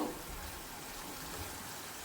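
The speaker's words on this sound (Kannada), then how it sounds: "ಈಗ ಇದು ಚೆನ್ನಾಗಿ ಇದರಲ್ಲಿ ಫ್ರೈ ಆಗಲಿ." Squid ghee roast masala for a Mangalorean dish frying in a pan, a soft, even sizzle that hisses steadily and quietly throughout with no pauses.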